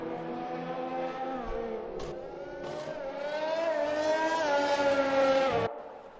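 A race car engine in a racing video game league round at Great Britain, revving and climbing steadily through the gears as the car exits the pits, a loud continuous whine rising in pitch, then cutting off at the end.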